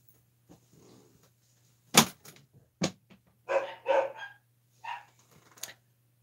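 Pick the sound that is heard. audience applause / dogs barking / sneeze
dogs barking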